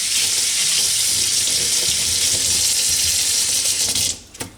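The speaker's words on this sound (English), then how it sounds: "rinse our brush out" A cleaning brush is rinsed under a running tap for an arcade monitor chassis cleaning job: loud, steady rushing water close by for about four seconds, then it cuts off abruptly, followed by a brief clatter.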